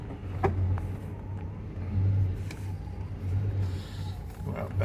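Exhaust of a 1987 Ferrari Testarossa idling just after a cold start, a deep burbling rumble with slight surges as the idle hunts, heard fairly close and steady throughout.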